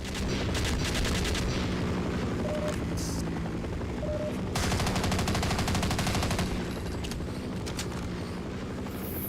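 Gunshots from a weapon fired at an enemy in Half-Life, bursts of rapid shots over a dense, loud mechanical background drone, with no voice heard.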